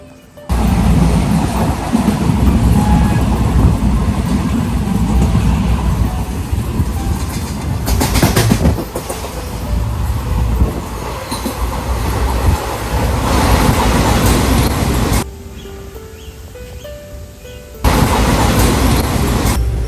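Konkan Railway train running through the countryside, heard from inside a carriage: steady loud rumble and rattle of wheels on rails, with a brief quieter stretch before the din returns.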